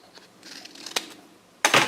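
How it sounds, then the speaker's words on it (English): A few soft snips and rustles, then a louder crisp burst near the end as scissors slice through paper while trimming a spiral-bound booklet, close up and without voices. "I'm just going to use my scissors."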